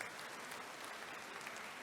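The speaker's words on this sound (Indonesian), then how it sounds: "Kita beri tepuk tangan dulu semuanya." A large crowd of graduates and guests claps at a university graduation ceremony, a thick continuous roar of applause at steady loudness from start to finish.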